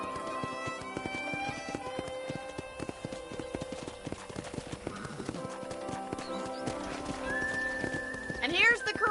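Rapid clip-clop of hooves beats throughout, with sustained musical tones behind and a horse whinnying loudly near the end, from the video game Red Dead Redemption on PS5.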